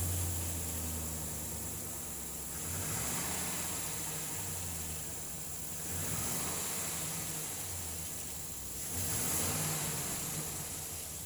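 A 2004 Chevrolet Silverado 2500HD pickup with about 251,000 miles idles steadily, its engine a constant close hum with a few gentle swells in revs and no talking.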